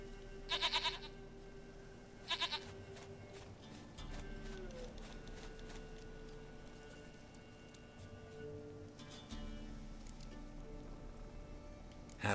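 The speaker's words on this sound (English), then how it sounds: "Goat of mine, dearest, sweetest goat." A goat in The Witcher 3 gives several short, nasal bleats in two clusters near the start, then a third near the end, over a quiet, steady background.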